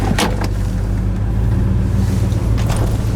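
A 1970 Oldsmobile 442 with a 455 engine being driven, heard as a loud, steady low rumble from close by with no break and no talk.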